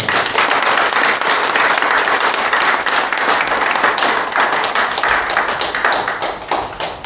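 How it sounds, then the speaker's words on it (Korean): A crowd at a memorial service in a Catholic education hall gives loud, vigorous applause, close, dense clapping that holds steady for several seconds before tapering slightly at the end. "뜨거운 박수 한번 주세요"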